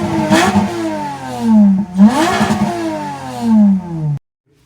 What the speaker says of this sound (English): that F1 racing sound, probably put a clip here